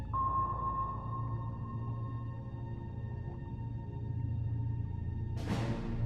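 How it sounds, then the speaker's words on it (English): A destroyer's active sonar sends out a loud, sustained underwater ping that slowly fades over several seconds, followed near the end by a sharp burst of broadband noise, all over a constant low rumble. "Harder remains vulnerable to the destroyer's active sonar pings."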